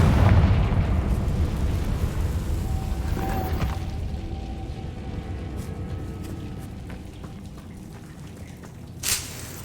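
A Confringo blasting spell explodes in the video game Hogwarts Legacy, opening with a heavy, loud boom that rumbles and slowly fades, then a small pop near the end.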